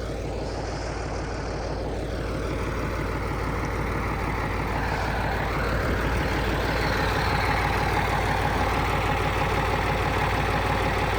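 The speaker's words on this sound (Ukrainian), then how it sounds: "Працює добре мотор." A T-150 crawler tractor's YaMZ-236 turbo diesel engine runs steadily nearby, a continuous deep rumble with a mechanical clatter that holds at a constant level throughout.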